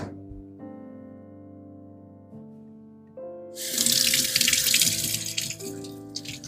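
A kitchen tap gushes water to rinse a farm egg, rising to a loud, close splashing rush after a stretch of steady background music, with no speech over it.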